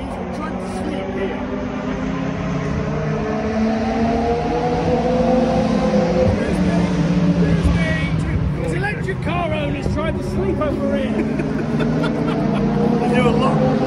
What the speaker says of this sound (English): The cars are starting.